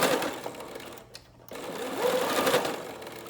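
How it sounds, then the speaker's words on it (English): A sewing machine runs a straight stitch across a fabric face mask, its steady motor whir close and continuous, pausing briefly partway through before resuming. "Now we're doing a straight stitch."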